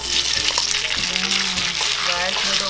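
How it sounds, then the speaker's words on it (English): Rice noodles fry in hot oil in a pan while being prepared for Thai lad na, a loud, steady close-up sizzle with occasional clinks and stirring knocks and no talking. "I will add our rice noodle."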